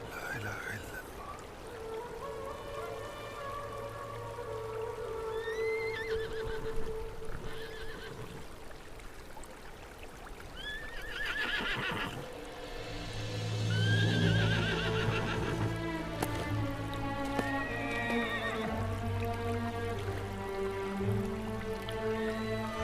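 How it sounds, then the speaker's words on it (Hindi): A horse neighs repeatedly with several whinnies over steady hoof clip-clops and background commotion, loud and close, in a period drama scene, with a voice briefly audible beneath. "ये उस्मान का घोड़ा है,"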